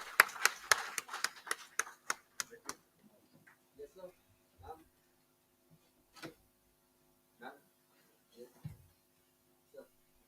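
Scattered applause at a conference session, a short burst of claps that quickly thins into a few isolated, fading hand claps, with a quiet voice in the room.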